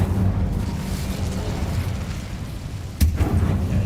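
A fire spell cast in Hogwarts Legacy on PS5 erupts as a sudden whooshing burst over steady rumbling game ambience, loud and close, with a sharp flare near the end.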